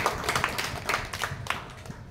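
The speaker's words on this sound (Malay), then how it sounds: "Tanya satu tepukan untuk dia anda semua." A crowd claps together, brisk scattered hand claps blending into steady applause of moderate loudness, with no talking over it.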